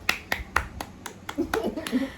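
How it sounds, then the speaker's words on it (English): A single person claps hands in a quick, regular rhythm of about eight sharp, close claps while a voice talks underneath toward the end. "the reason I'm clapping for her"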